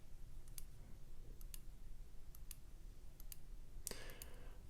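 Date change on a 2023 Tag Heuer AquaRacer watch: sparse, very faint tiny clicks at irregular intervals, closing with one slightly stronger click over a soft background hiss.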